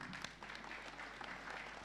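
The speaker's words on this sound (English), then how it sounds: "Please clap for her." Audience clapping at a national advertising conference, faint and distant, a thin wash of scattered claps under room hiss.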